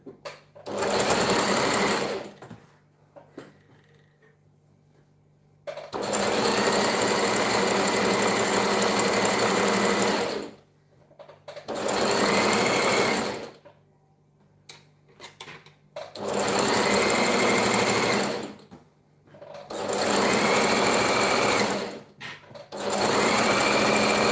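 A sewing machine runs in five long loud bursts of fast, even stitching, each separated by short quiet pauses while the fabric and pins are repositioned.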